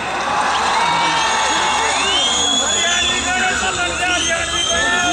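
Studio audience at a Hindi comedy talk show cheers, whoops and claps loudly in a continuous dense wash, with tonal whistle-like cries rising above the crowd noise throughout.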